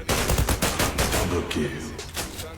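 Rapid gunfire from a shotgun in the online shooter Zula, a dense run of sharp blasts filling the whole stretch with faint voice traces mixed in.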